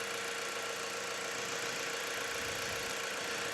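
A car engine idles steadily just after a cold start, warming up at around 850 rpm, giving a constant low hum with fine vibration and no pauses or voices.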